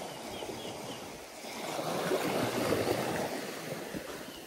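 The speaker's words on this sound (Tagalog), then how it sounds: "Malakas-lakas ng konti ang alon." Ocean waves rolling onto a beachfront lot, a soft continuous rushing surf that swells slightly in the middle, with no talking.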